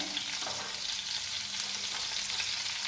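Continuous sizzling of mutton pieces pan-roasting in a hot pan, a steady crackling hiss heard up close with no talking.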